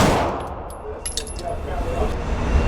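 A Phoenix Trinity H Duty pistol fires a few quick sharp shots at close range, with brief ringing tails and a low background rumble.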